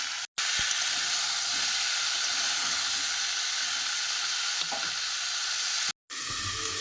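Mixed vegetables and salt sizzle steadily in hot oil in a frying pan, a loud, continuous close frying hiss with only brief breaks.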